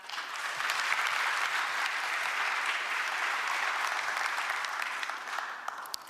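Sustained applause from an audience at a government policy briefing, a dense even wash of clapping that swells quickly and holds steady for several seconds before tapering slightly.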